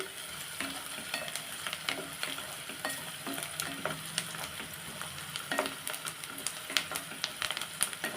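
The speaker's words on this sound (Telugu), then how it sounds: "ఉల్లిగడ్డలు పచ్చిమిర్చి వేగే వరకు కలుపుతూ ఉండాలి" Onions and green chillies frying in a pan while being stirred, a steady close sizzle with scraping stir strokes and small crackles scattered through it, no speech.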